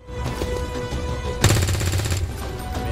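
Weapons fire loudly in XCOM 2: War of the Chosen. A sharp burst lands midway and brings a dense rattling volley that quickly tails off.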